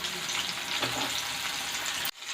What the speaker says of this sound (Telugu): ఇలా డిప్ చేసుకున్న ఈ చికెన్ని ఇంకా రెడీగా ఉంచుకున్న ఈ ఆయిల్లో వేసేసేయాలి. అన్నీ కూడా ఇలానే వేసేసి ఫ్రై చేసుకోవాలి మంచిగా.